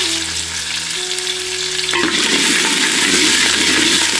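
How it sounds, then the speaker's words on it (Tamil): Onions and curry leaves sautéing in a hot pan for sambar, a loud continuous sizzle and crackle that swells as they are stirred, close up with no talking. "கறிவேப்பிலையை சேர்த்து வெங்காயத்தை நல்லா வதக்கிடுவோம்"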